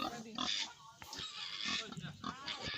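Pigs on an Assam pig farm squeal and grunt in short, loud bursts, struggling during an injection, with someone talking over the noise throughout.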